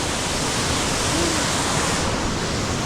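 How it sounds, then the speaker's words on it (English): A big waterfall thundering nearby, a dense, steady, loud roar of falling water with no break. "Big waterfall."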